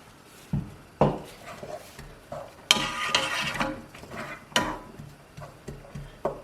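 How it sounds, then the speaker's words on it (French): Chopped onions and garlic tip into a hot pan and begin frying, with a rising sizzle amid scattered clatters and scrapes of a utensil against the pan. No one speaks. "Je vais du coup verser la moitié de mes oignons et de l'ail."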